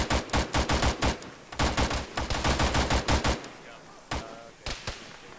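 Rapid bursts of gunfire come from a weapon emplacement in a tactical military shooter game. Loud clusters of shots crack back to back, then a few scattered single reports follow.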